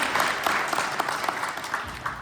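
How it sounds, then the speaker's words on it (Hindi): Audience applause greeting new guests at an RCM family gathering, a steady, dense wash of clapping lasting a couple of seconds at moderate volume. "एक जोरदार ताली हो जाए हमारे नए मेहमानों के लिए।"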